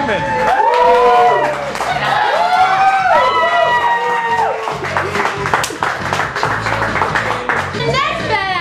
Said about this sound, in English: A huge round of applause for Urban Dances with Bludgers